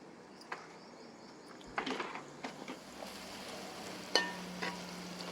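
Chili powder frying in oil in a pan for a fish curry gives a soft, steady sizzle, with a few sharp clinks of a spoon stirring against the pan.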